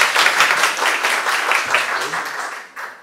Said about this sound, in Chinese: 以最热烈的掌声来欢迎冠英老师